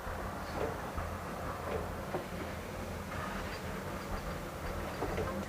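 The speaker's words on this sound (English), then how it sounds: "This 262 tank engine was built in 1923 by the Great Western Railway Company" Great Western Railway 262 tank engine, built in 1923, running on the Rheidol Valley line with a steady, continuous mechanical rumble and faint rhythmic clatter throughout, with no voices.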